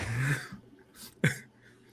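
Two short, close coughs with a brief pause between them, harsh and dry, standing alone against a quiet background.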